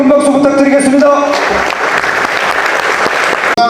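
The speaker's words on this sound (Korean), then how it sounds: "다시 한번 화물연대본부 김동국 위원장 목직에 큰 박수 부탁드리겠습니다" A crowd at a union members' rally breaks into sustained, loud applause after a voice finishes speaking, clapping steadily for a few seconds.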